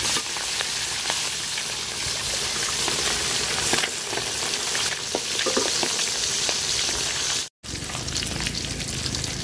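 Pabda fish fries in hot oil in a pan, sizzling and crackling steadily, a dense continuous hiss with occasional louder pops.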